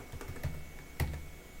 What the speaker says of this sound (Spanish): Digitamos y Enter, y aquí vamos a colocar Enter.